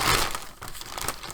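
Plastic bag crumpled by hand at a craft table, a close, busy crinkling and rustling that continues for just over a second with no voices.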